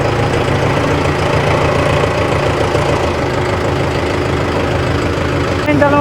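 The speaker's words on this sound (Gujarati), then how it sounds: "ટ્રેક્ટર" A Mahindra tractor engine idles steadily at close range, a dense low rumble with a faint knocking pulse that continues evenly for the whole stretch, with no break or change in pace.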